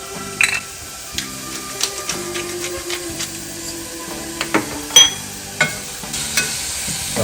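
Onions sautéing in a pan, a soft continuous sizzle broken by a regular series of clacking spoon-on-pan stirring strokes, close and fairly loud.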